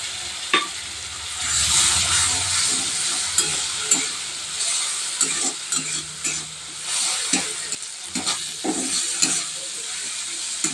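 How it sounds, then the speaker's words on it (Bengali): Ground mustard paste and dry red chilli spices sizzle and hiss in a hot pan while being stirred, with loud frying bursts and intermittent clanks of a spatula scraping the pan. "এখানে মশলাটা ভালো করে ভেজে নিয়েছি"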